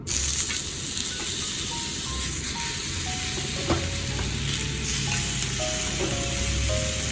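Mushrooms sizzle steadily in oil on a flat top grill, a dense, continuous frying hiss that stays loud and even throughout, with faint scrapes and clicks beneath.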